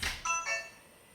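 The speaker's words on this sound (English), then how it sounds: "I like how there's a chime and an indicator light on the lock." Short electronic chime from an August WiFi Smart Lock on a door, a few bright ascending tones in quick succession, close and clear, ringing briefly before fading out.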